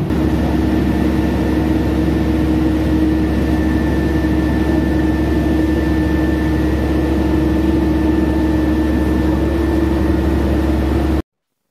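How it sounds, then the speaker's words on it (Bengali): A ferry cruising on the Sea of Marmara toward the Princes' Islands gives off a loud, constant low engine drone with a faint steady whine on top, unbroken and without voices. "নীল জলরাশি ভেদ করে সফেদ ফেনা সৃষ্টির মাধ্যমে এগিয়ে চলেছে আমাদের জাহাজ"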